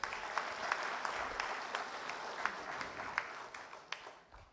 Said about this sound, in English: Can we hear a loud round of applause for him?